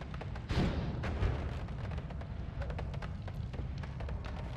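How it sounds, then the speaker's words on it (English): An explosion in the video game Noita: dense rumbling blasts and crackling bursts run continuously at moderate loudness, with a stronger boom near the start. "Well, maybe it'll accelerate this explosion."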